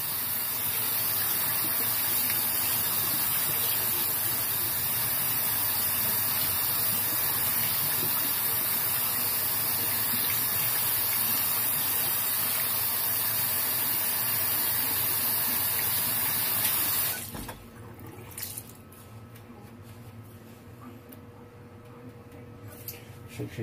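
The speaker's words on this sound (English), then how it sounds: "rinse off the brush" A shaving brush is rinsed under running water from a tap, a loud steady gushing hiss that lasts about seventeen seconds, then stops abruptly and leaves faint room noise.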